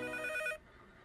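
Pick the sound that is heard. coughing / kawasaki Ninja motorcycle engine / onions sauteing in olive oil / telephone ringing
telephone ringing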